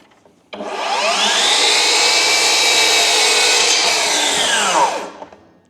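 A FLEX 12-inch miter saw runs up and makes a single chop cut, giving one loud, steady, close whine for about four seconds before spinning down, with no talking.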